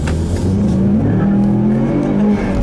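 Ford Mustang fitted with a Cobb intake accelerating hard from a stop, a loud close engine note climbing steadily in pitch over a couple of seconds with no talking.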